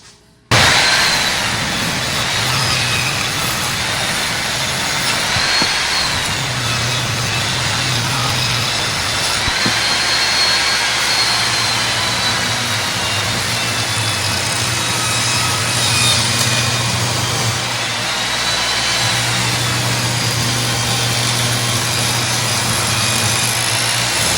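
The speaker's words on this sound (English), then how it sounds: "just run them through my table saw and get 2 square sides to get rid of these factory rounded edges" Boards with factory-rounded edges are ripped square on a table saw; a loud, steady motor whine runs throughout while the blade bites, with the cutting tone deepening and shifting as each board feeds through.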